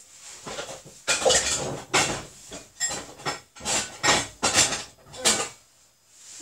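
Pots, pans and a lid clattered and shuffled in a kitchen cupboard in bursts of metallic clanking and knocking, close by, with short pauses between each rummage.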